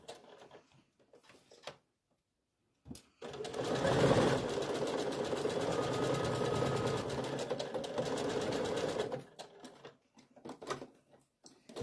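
A sewing machine stitches the fabric of a stuffed Halloween ghost in a close, steady run of rapid mechanical clatter lasting several seconds, framed by scattered handling clicks and quiet pauses before and after.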